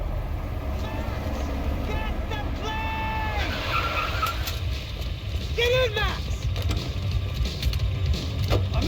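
Car driving and skidding in the video game Max Payne 3, a steady engine roar with repeated high tire squeals over a loud continuous rumble, with shouting voices over it.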